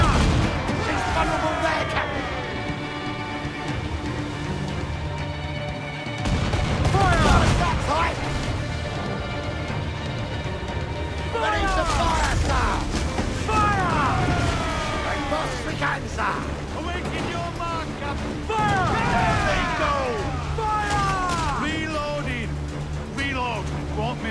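Cannon fire and gunfire from a pirate ship battle in Assassin's Creed IV Black Flag, with repeated booming shots and volleys over dense music, shouting voices heard around the blasts.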